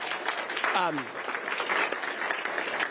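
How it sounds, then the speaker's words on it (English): A town hall audience at a community meeting with state legislators applauds, a continuous moderate wash of clapping while a voice speaks over it and a brief whistle-like sweep cuts through. "Let's give them a round of applause, please, and say thank you."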